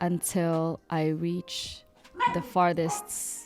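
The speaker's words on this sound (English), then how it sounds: "Excuse my dog." A jealous house dog barks and whines several times indoors during sewing work, the sounds mixed in under a person's ongoing talk.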